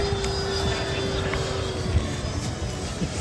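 A Freewing Avanti 80mm electric ducted-fan model jet, powered by a 6S 10000mAh pack, whines steadily as it comes in to land. The steady, fairly loud drone of its fan runs throughout.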